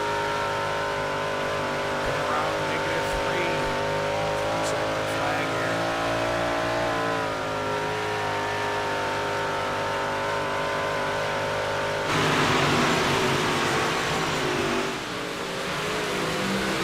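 358 sprint cars lapping at the Knoxville Nationals, engines roaring in a steady high-pitched drone with shifting tones as the pack circles, swelling louder as cars pass close near the end.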